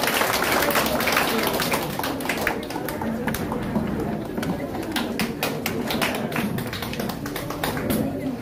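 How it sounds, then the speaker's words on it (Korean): Audience clapping at a Korean political appointment ceremony in a campaign office opening, a dense, steady burst of many hands sustained throughout, with murmuring voices mixed in. "박수 좀 쳐주세요."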